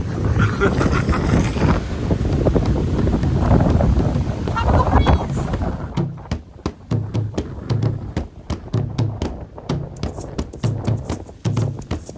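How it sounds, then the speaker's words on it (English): Strong wind at a beach resort in Mo'orea, French Polynesia buffets the microphone with a heavy roar for several seconds, then gusts continue in choppy, broken bursts. "So it's very windy here"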